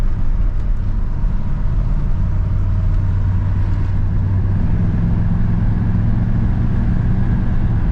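A square-body pickup truck with a four-barrel carburetor, a sticky throttle and secondaries that are not opening runs after a downshift, producing a loud, steady, low engine drone that does not clearly rise in pitch.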